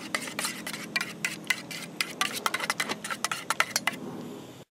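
Eggs are beaten with a utensil in a saucepan on a spring canoe camping trip, a rapid series of close metallic clinks and scrapes against the pan that speeds up and then stops abruptly into silence, with no talking.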